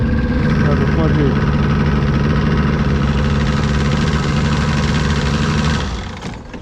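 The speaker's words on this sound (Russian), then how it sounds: "А потом мы мотор глушим" A boat motor idles loudly and steadily on a river during line fishing for grayling and ide, a constant low throb that cuts out near the end.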